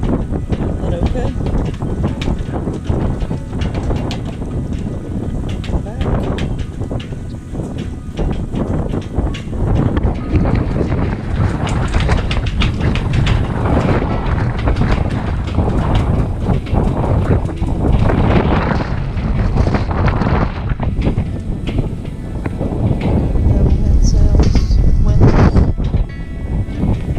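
Strong wind buffets the microphone aboard an Island Packet 38 sailboat, a loud continuous roar with gusty surges, while people talk over it.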